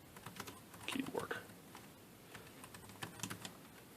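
Soft, quick keystrokes on a BATTOP wireless Bluetooth keyboard patter in an uneven run, close and fairly quiet, with a brief murmur of voice partway through.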